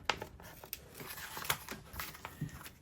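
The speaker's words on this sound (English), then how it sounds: "if I just take my fine tip scissors, I can get in there and grab some of these snowflakes" Fine tip scissors snip through paper to cut out small snowflake shapes for a holiday card, giving a run of close, crisp cuts and rustles in quick irregular bursts.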